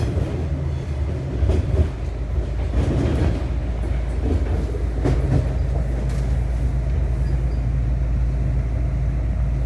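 An Adelaide Metro 3100 series electric railcar rumbles steadily on the rails with a deep motor hum and occasional clacks, heard from inside the carriage.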